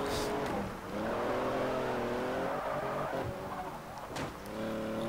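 Racing car engine in the Forza Horizon video game, loud and close, revving high with pitch dips as it shifts up through the gears, a brief drop in the middle and a quick shift near the end.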